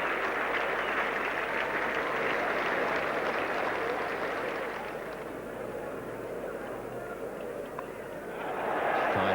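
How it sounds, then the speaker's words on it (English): A big cricket crowd at The Oval applauds during the 1975 Prudential World Cup match between Australia and West Indies, a broad, sustained wash of clapping that dips midway and then swells again. "he's getting a very good hand from this big crowd"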